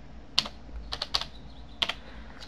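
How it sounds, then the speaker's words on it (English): Keys on a computer keyboard tapped in short, irregular clusters as a zip code is typed, crisp clicks up close with pauses between groups and no talking. "Now, you type in your zip code"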